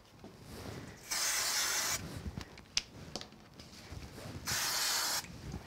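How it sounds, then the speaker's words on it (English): Spray glue from an aerosol can misted onto aged paper pieces for a craft background card, two steady hissing bursts of about a second each, close by, separated by light handling and tapping sounds. "I'll just hit them with a little bit of spray glue"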